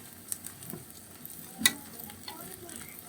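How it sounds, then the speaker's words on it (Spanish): A frying mixture with onion is stirred in a pan over an open fire, a faint sizzle with scattered scraping taps and one sharper clink near the middle. "Lo voy a revolver para que se revuelva con la cebolla."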